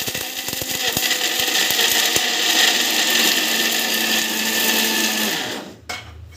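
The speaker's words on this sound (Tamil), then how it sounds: "எல்லாத்தையும் ஒரு தடவை போட்டு நம்ம வந்து மிக்சியில் போட்டு அரைக்க போகிறோம்." A kitchen mixer grinder runs steadily, grinding laddu ingredients with a loud, continuous whirring buzz for about five seconds before the motor cuts off and winds down.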